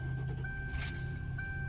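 A car engine runs with a quiet, steady low hum after its battery has been drained by running a 12-volt heated mug for half an hour, with no talking.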